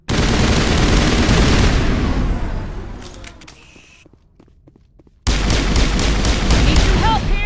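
Rapid rifle and pistol gunfire in the Mass Effect video game, dense loud bursts for a few seconds that thin out, cut to near silence, then resume loud with more shots and a game voice mixed in.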